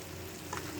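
Garlic and onion sautéing in a pan, a steady close sizzle and fry running evenly throughout with a slight brief rise partway, no voices.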